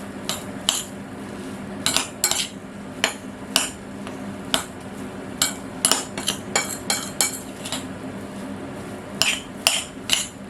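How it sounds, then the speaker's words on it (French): Chickpea ball mixture being mixed with spices in a bowl, a spoon clinking and scraping against the bowl in irregular bursts, close and fairly loud with quiet gaps between strokes. "Alors, il faut bien mélanger."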